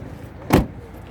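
A car door on a used car at a Turkish second-hand car market is shut with one solid, close thump against faint background noise.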